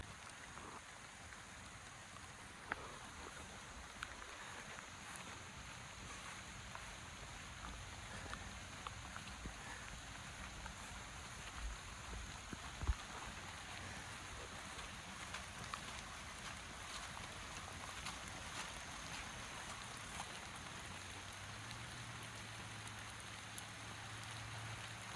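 Heavy rain falls steadily during a hike through wetland ponds, a constant dense hiss with scattered small taps and drops, no voices heard.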